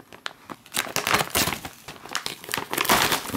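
An MRE ration pouch, a Daff Red Line salmon paella meal, is cut open from the back, giving close, loud crinkling and rustling of the packaging in irregular bursts, with no talk.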